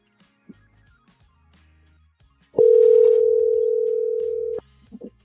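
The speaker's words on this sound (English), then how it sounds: "Were you guys able to hear the phone, a phone ringing?" A steady electronic phone ringing tone sounds for about two seconds, loud and clear, set among quiet room noises and faint movement before and after it.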